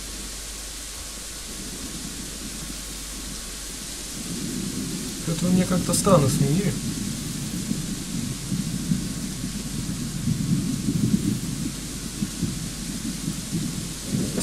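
Thunder rolls after lightning in the medieval video game Kingdom Come: Deliverance, a low rumbling swell over steady rain hiss, rising midway and rumbling again later, with someone talking briefly over it.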